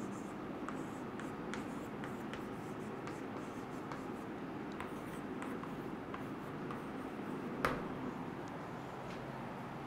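Notes are written by hand during a chemistry lesson, a soft, steady scratching of pen or chalk under a constant room hiss, with one brief sharp tap near the end.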